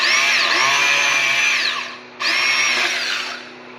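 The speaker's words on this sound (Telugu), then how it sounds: "ఈ ఫ్లాట్ బిట్ యొక్క పదునైన దంతాలు ఎలా రంధ్రం చేస్తుందో" An electric drill fitted with a flat wood bit bores into wood. The motor whines loudly and steadily, eases off, pauses briefly, then spins up again for a second burst before trailing off.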